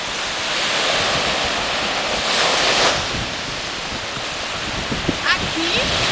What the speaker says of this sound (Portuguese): Olha só que coisa linda do mar.